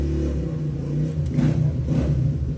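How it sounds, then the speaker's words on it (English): A motorcycle engine being worked on by a mechanic rumbles and revs in the background, a steady low drone swelling twice into brief throttle bursts at moderate distance. "we have some motorcycle action going on in the back"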